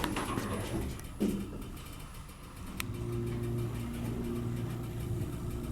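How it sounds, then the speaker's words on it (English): A hotel elevator motor at the Residence Inn in Roanoke runs with a steady low hum and drone, preceded by a brief clunk and a sharp tick partway through. "I still love the sound of that motor."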